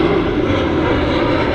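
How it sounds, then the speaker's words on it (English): An Austrian Airlines Embraer jet at Manchester Airport, heading back to Vienna, gives a steady, loud broadband engine roar that holds evenly throughout with no talking over it. "Austrian Embraer on its way back to Vienna."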